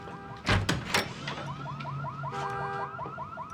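A car alarm in a Better Call Saul scene blares a repeating electronic warble, loud and close, following a couple of sharp clunks at the start.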